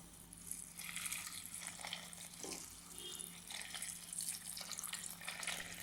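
Dried shrimp being rinsed in water, a soft steady splashing and trickling with faint drips, quiet and continuous throughout with no talking.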